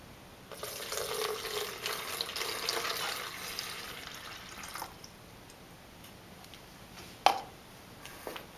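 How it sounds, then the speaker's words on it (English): Water is poured into a pitcher, a steady splashing stream lasting several seconds before trailing off, followed by a couple of small knocks in a quiet room. "now, I'm going to add 250 mils back into the pitcher"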